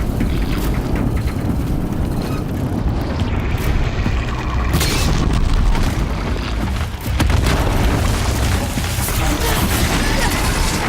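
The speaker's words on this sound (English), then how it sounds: "Yay! Explosions!" Explosions in Horizon Zero Dawn, a dense continuous rumble of booms and crackling debris that stays loud throughout, with a brief dip near the middle.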